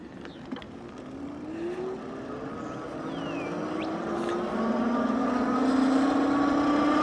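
An Eskute C300R electric bike climbs a hill on throttle, its motor whine rising gradually in pitch as speed builds, over steady wind and road rush, fairly quiet and continuous.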